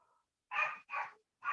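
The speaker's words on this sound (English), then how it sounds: "Justin, it sounds like you're running the bark house over there" A dog barks in three sharp, close, loud woofs in quick succession, with a faint whine just before the first.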